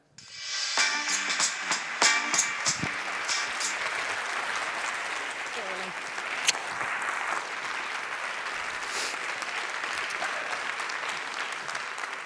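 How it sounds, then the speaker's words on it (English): A conference audience at a forum's closing plenary session breaks into applause. The clapping rises quickly into sustained, full-room applause that holds steady for many seconds, with a few scattered louder claps and whoops early on. "Please give him a huge round of applause."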